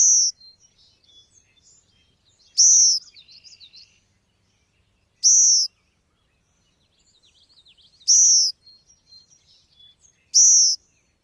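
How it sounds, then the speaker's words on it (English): Song sparrow begging calls: four loud, high, buzzy bursts at even intervals of about two and a half seconds, with softer chips and twitters in between, close by and otherwise quiet. "begging call from a song sparrow"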